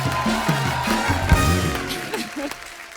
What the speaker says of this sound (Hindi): जोरदार तालियां आदित्य और संजना के लिए।